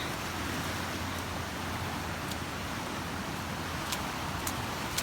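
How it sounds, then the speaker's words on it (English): Steady rain falling outdoors beside a river, a continuous broadband hiss with a few faint sharper patters, fairly close and even throughout with no voices. "it's starting to rain a little bit heavier now"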